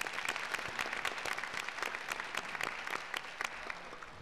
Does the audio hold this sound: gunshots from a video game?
no